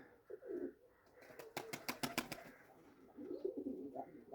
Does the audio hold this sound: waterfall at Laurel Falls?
no